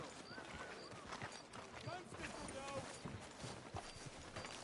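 Horse hooves clip-clop in the Red Dead Redemption 2 video game, a soft steady walking rhythm of hoofbeats under quiet background sound and occasional faint chirps.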